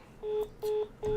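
A mobile phone gives three short, evenly spaced electronic beeps, fairly quiet and heard alone.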